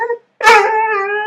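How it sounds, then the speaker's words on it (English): A hunting dog lets out a brief yip, then after a short pause a loud, sustained mournful howl held close to the listener. "It's like a hunting dog."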